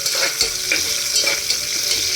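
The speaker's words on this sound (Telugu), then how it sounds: "మంచి బ్రౌనిష్లో వచ్చేంత వరకు వేయించాలి" Onions fry in hot oil with whole spices (shahi jeera, bay leaf, star anise, cinnamon, cardamom, cloves) for chicken soup, giving a loud, constant sizzle with stirring scrapes and no voice.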